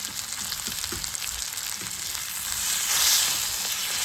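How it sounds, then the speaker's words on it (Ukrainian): Steady crackling sizzle of fish frying in a pan with onions, continuous and close, growing a little louder and hissier toward the end. "хай смажиться рибка"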